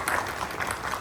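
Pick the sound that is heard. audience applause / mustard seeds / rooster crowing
audience applause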